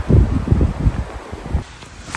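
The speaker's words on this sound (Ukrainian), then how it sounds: "Такий вітер." Gusty autumn wind in the Carpathian mountain woods buffets the microphone in low rumbling bursts, with leaves rustling, before easing off near the end.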